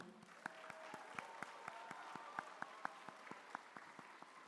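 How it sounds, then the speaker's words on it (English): Scattered, faint clapping from an awards-ceremony audience for volunteer youth ambassadors, individual sharp claps at an uneven rhythm over a quiet, roomy background. "Yeah, we can clap for them."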